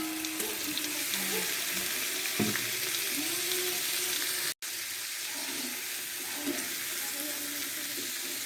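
Garlic and tomato frying in hot oil in a home kitchen, a steady loud sizzle with faint stirring clatter throughout and a brief dropout midway.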